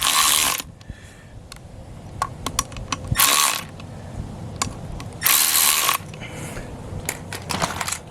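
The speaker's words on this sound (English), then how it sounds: "use common hand tools, sock and ratchet" A socket and ratchet tightens the water pump bolts on a Mercury 20hp outboard, giving bursts of rapid metallic ratcheting clicks close by, three distinct runs separated by quieter handling taps and small knocks.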